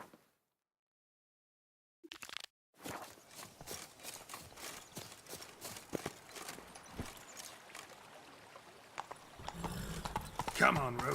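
Roach the horse trotting in The Witcher 3, a quick run of hoof clip-clops after a short silence, steady and fairly close, with a whinny and game ambience rising near the end.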